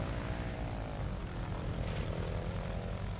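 Seaplane engine in a Tintin video game, a steady propeller drone holding close and loud throughout with no pauses or talk over it.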